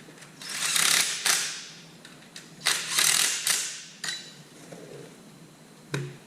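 A ratchet tightens bracket bolts on an OM617 diesel engine, giving several bursts of rapid metallic clicking with brief pauses, close and loud, with no talking.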